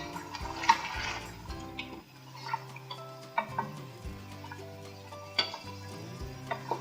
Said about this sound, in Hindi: और ये अच्छी तरह से हम भून लेंगे